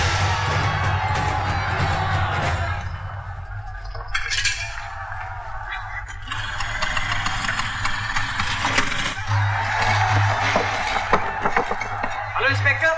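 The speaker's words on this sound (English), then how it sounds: "There's a huge crowd outside." A large, agitated crowd shouts and cheers outside during a riot, a dense roar of many voices that swells and fades, with an engine-like rumble underneath and nearer voices speaking at moments.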